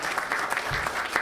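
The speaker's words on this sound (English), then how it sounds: "Yes, that is, y'all can applaud." Audience at a city council meeting claps in a brief, moderately loud round of applause, a dense patter of hands with no voices over it.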